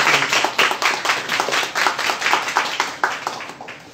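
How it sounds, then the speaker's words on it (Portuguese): Audience at an anthology book launch clapping steadily, a close, moderately loud run of rhythmic claps from a modest crowd, continuing for several seconds without talk. "vamos aplaudir isso aí"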